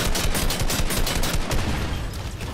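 An automated turret in Fortnite firing a rapid, sustained burst of loud gunfire, shots running continuously and close by with no pause.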